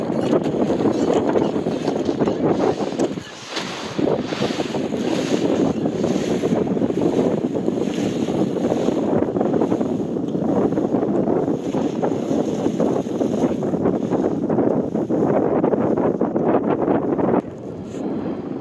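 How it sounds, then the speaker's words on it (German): Strong wind on a winter mountain summit buffets the microphone in a constant roaring rush, with a brief lull partway through. "Es windet sehr, sehr stark."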